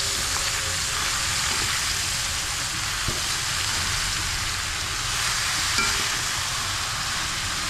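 Mushrooms go into a hot frying pan and sizzle steadily and loudly, a dense continuous hiss close by with no talking.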